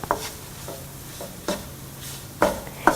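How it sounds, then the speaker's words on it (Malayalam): Masala, pepper and chili powder are stirred and sautéed in a pan for chicken curry: a soft background sizzle punctuated by several short scraping, tapping strokes of a utensil, spaced irregularly and louder toward the end, without talk. "ഇനി എടുത്തു വച്ചിരിക്കുന്ന മസാലപ്പൊടി, കുരുമുളക് പൊടി, മുളക് പൊടി എന്നിവയിട്ട് നന്നായി വഴറ്റിയെടുക്കുക."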